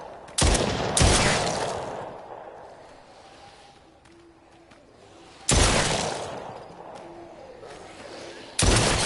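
Gunfire in The Brookhaven Experiment VR shooter: four sharp, loud shots in two pairs, each followed by a long decaying echo.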